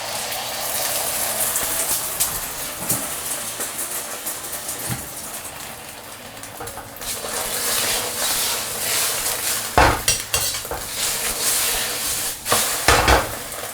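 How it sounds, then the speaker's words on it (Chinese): Steady sizzling of eggs frying in oil, with occasional clinks and scrapes of a utensil against the pan, louder bursts near the end. "来点凉油，这时候下入我们的鸡蛋"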